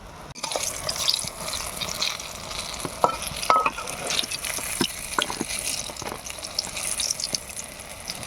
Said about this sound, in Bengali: প্রায় ভাজা হয়ে গেছে বেগুন।